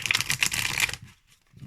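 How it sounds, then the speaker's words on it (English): Thin Pulp Tarot cards riffle in a tight, dense shuffle for about a second, close and crisp, followed by a few soft handling taps and near silence. "the advantage of thinner cards is that you can definitely, you know, do tighter shuffles"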